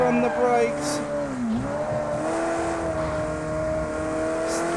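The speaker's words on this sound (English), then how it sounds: "Tyres really scrubbing." A Ferrari race car corners hard with its tyres scrubbing, the engine holding a steady high note that dips briefly and recovers, loud and close throughout.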